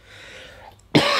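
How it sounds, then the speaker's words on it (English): A single sharp, loud cough from a person bursts out near the end, following a stretch of quiet background hum. "sorry, coughing."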